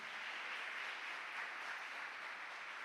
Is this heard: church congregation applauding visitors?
yes